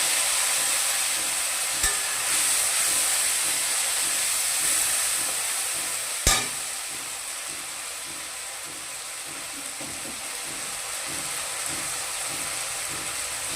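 Ground spice paste of ginger, tomato and whole coriander sizzles steadily in a hot pan for black chickpea curry, a continuous bright hiss with soft stirring scrapes and one sharp clink midway.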